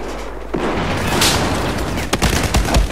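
Battlefield 4 multiplayer gunfire crackles in rapid bursts, with a loud boom and several sharp shots close together toward the end.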